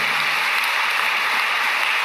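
Dense, steady applause from a debate audience in a hall, loud and continuous throughout with no gaps or voices on top.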